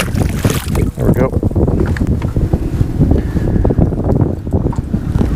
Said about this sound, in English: Wind's picking up just a little bit around the corner here.